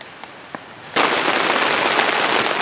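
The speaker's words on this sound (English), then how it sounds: "The wind and the rains come back with a vengeance." Wind and rain strike suddenly during a storm at a tarp shelter, a near, loud roaring hiss of downpour and gusting that cuts in abruptly after a quiet second with a couple of faint taps, then continues steadily.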